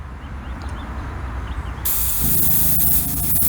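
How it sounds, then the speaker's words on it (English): A sharp, steady hiss of an airbrush spraying House of Kolors red apple paint starts partway through and continues loudly to the end, close up. "So let's spray this bad boy."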